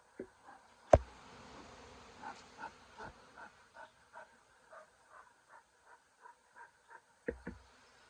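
Bees buzz faintly in a house during a removal, with a soft, steady drone punctuated by a regular series of light taps and a couple of sharper knocks.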